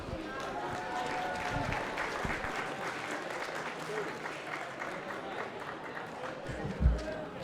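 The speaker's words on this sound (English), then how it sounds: "Let's give these kids a big round of applause." Applause from a crowd at a junior livestock show and sale rings out for the kids of the final market class, a fairly distant, sustained clapping with a brief louder thump near the end.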